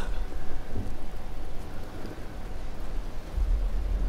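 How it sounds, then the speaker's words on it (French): Steady rain with rumbling thunder fills a stormy outdoor scene in the video game Days Gone, a dense continuous wash with low booms, loud and close with no voices. "Putain, manquait plus que la pluie."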